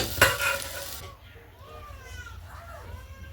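Turnip and potato pieces frying in oil in a home kitchen pan, with a loud stirring scrape at the start that gives way to a softer continuous sizzle.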